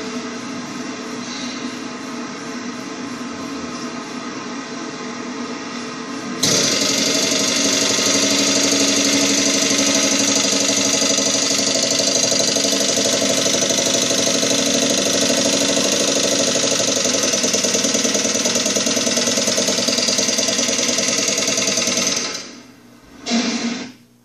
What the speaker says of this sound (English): This is a video actually of me running the engine.